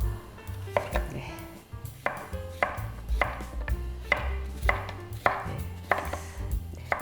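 A knife chops winter radish into small pieces on a board. Firm, evenly spaced thuds repeat about once per second, close and clear, with no talking.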